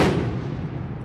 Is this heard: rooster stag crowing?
no